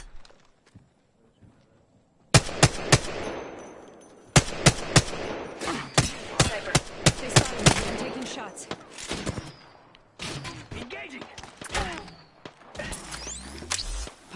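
Video game gunfire: sharp, loud bursts of rapid shots in clusters after a quiet start, with brief pauses between volleys and game voices mixed in.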